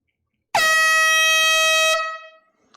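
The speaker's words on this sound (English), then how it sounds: "We need an air horn." A single loud, sustained air horn blast, sounded during a live-streamed vinyl record sale, blares for about a second and a half, then cuts off and fades.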